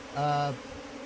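An African honeybee (Apis scutellata) buzzes briefly up close at the hive, a steady droning hum lasting under half a second against a quiet background.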